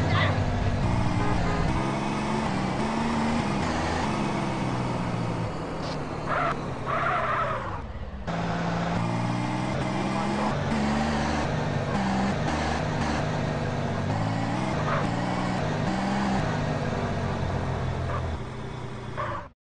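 A car's engine drones steadily in GTA San Andreas gameplay, loud and continuous, with game music and voices layered over it throughout.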